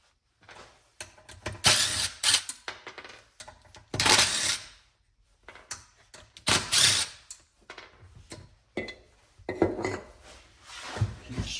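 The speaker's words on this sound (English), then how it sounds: "now I'm going to start disassembling this block" Metal engine parts of a mini quad engine block clinking and rattling as it is taken apart, in bursts of close, sharp metallic clatter separated by short pauses.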